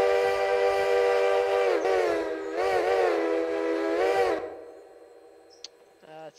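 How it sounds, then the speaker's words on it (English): Lima 5-chime steam whistle from the Railroader railway game, sounded loud and close as a sustained chord broken into a few swelling toots before fading out, followed by faint background clicks and no speech. "We have a Lima 5 chime here."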